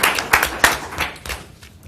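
A small audience at a school board meeting gives a short round of scattered applause: a few sharp, close claps that thin out and fade within two seconds.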